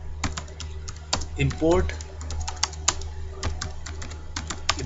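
Rapid keystrokes on a computer keyboard while Python Flask code is typed in a tutorial, sharp irregular clicks running throughout with a voice speaking briefly over the typing midway.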